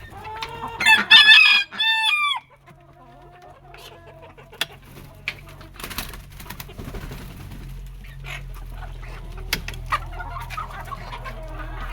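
A silkie rooster crows loudly and close by, one long call, and then hens cluck softly and sporadically in a farmyard coop.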